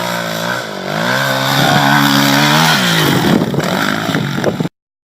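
A motorcycle engine plays for a LEGO Technic motocross dirt bike, set 42007, revving loud and close with rising and falling pitch sweeps, then cutting off abruptly into silence.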